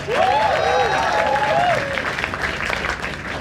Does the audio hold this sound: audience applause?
yes